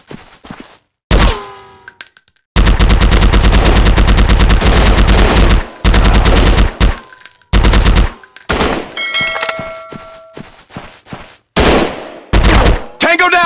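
Rapid automatic gunfire in the mobile shooter Counter Terrorist Strike, loud dense bursts broken by short silences, with metallic pings and clanks between the volleys.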